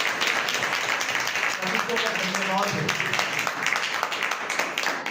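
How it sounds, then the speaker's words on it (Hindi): A congregation at a Hindi-language Christian worship gathering claps hands in a steady, dense burst of applause, with a voice briefly speaking over the clapping partway through. "ताली बजाइए"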